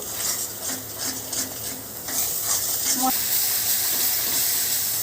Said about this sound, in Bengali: এটাকে আবারও ভালো করে আমি কষিয়ে নিচ্ছি।